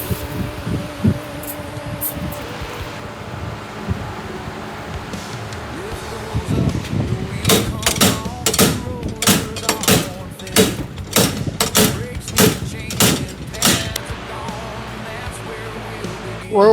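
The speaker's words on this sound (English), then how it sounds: "I'll come back with a slide hammer," Repeated sharp metallic bangs of a slide hammer knocking a seized front wheel hub off a Nissan 370Z, about a dozen loud, close impacts in quick succession after some quieter working sounds.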